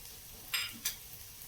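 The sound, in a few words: mixing corn upma with lemon juice and coriander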